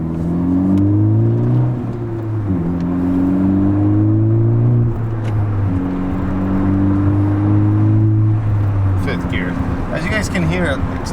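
A 2018 Honda Civic Si with a muffler-delete exhaust driving along, its engine note rising and falling through gear changes in a steady drone, with a few brief knocks and rustles near the end.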